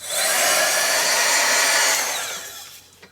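A hair dryer blows steadily over artwork, a loud continuous broadband whoosh for about two seconds that then tapers off as it is switched down, ending with a small click.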